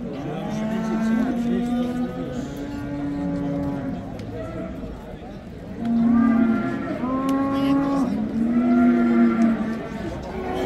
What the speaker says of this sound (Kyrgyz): бар уйларды тарттык окшойт.